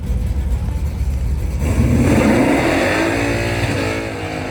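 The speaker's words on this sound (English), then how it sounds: "Truck doing its burnout straight behind me." A drag racing truck does its burnout at Santa Pod, a loud sustained engine roar with rising revs close by, building in intensity and holding steady for several seconds.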